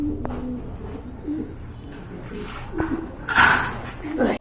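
Pigeons coo in soft, low, repeated calls at close range, with other household noises and a few knocks scattered around them.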